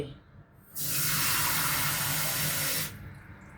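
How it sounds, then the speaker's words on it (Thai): Water pours into a bowl of batter for fried Chinese chive cakes, a steady close splashing rush lasting about two seconds, then stopping. "จากนั้นก็ใส่น้ำลงไป"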